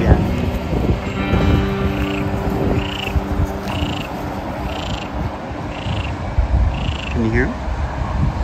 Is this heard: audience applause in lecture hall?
no